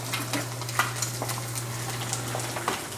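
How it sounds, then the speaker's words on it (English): An egg sizzles steadily in a hot pan while being cooked over easy for a deer sausage breakfast sandwich, a continuous close crackle broken by a few light clicks and scrapes. "And just cook up that egg."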